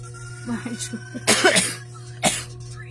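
A woman at a thrift clothing sale coughs a few times in short bursts, with a louder cough and a throat-clearing sound following, over a steady background hum.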